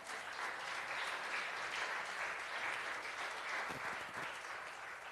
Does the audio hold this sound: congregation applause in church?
yes